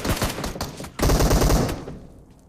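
Rapid bursts of automatic gunfire in a first-person shooter video game, loud and close, two clustered volleys separated by a short gap and then fading into quiet.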